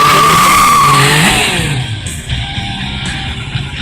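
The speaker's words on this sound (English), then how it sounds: "A couple smoky burnouts." A motorcycle does smoky burnouts at a local dealership stunt show, its engine screaming at high revs and then dropping away with a rough, skidding roar, close and loud.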